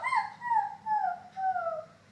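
A person imitates a crying puppy with three or four high, falling whimpering whines in quick succession, close and clear.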